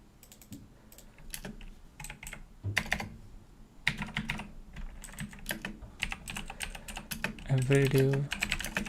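Computer keyboard keys clatter in quick irregular bursts while someone writes CSS grid layout code, close and fairly loud, with brief pauses between runs of typing.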